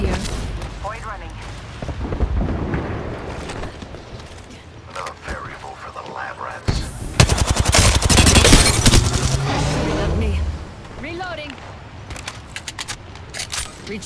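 Video game gunfire in a battle royale match: dense bursts of rapid automatic shots and sharp cracks, loud and close, with mechanical clicks and game voice lines between the volleys.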